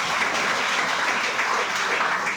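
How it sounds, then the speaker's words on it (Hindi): An audience at a product training session in Behala, Kolkata, claps for a cruelty-free product. Steady, dense applause fills the whole short stretch at an even loudness. "एक बार इसके लिए ताली।"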